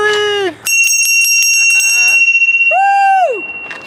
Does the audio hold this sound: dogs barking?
no